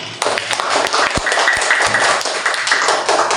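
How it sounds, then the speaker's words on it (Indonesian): Classroom clapping from a group of schoolchildren during a lesson, a dense, steady patter of many hands lasting several seconds, close and fairly loud with a few sharper individual claps. "Tepuk tangan untuk kita semua."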